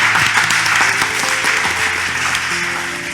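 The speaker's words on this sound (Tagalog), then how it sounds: "Palakpak naman dyan." Applause from the audience of a pastor-led talk show segment, a steady dense wash of many clapping hands filling the whole stretch at fairly even loudness, with faint music or voices beneath.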